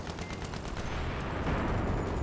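Tank cannon fire in the video game Battlefield 3, a dense continuous barrage of gunfire and blasts filling the mix at steady loud level, with no talk over it.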